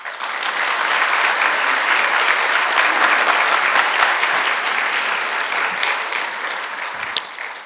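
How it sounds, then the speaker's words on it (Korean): An audience at a church lecture applauding to welcome a speaker, a full sustained burst of clapping that holds steady for several seconds, then thins and fades near the end. "우리 김남균 형제님 나오면 다 같이 박수로 환영하겠습니다"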